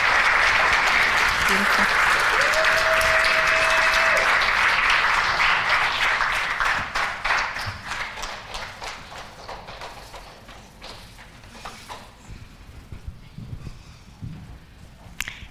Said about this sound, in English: Can we give a round of applause for amazing authors of Step Forward and Shine?